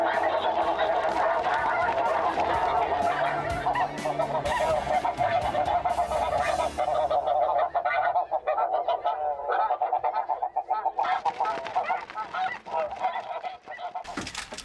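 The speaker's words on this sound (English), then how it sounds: "I can't hear anything over the goose call" Geese honk continuously and loudly in a dense, overlapping chorus, mixed with a hunter's goose call, on a snowy goose hunt; the calling thins out and turns choppier toward the end.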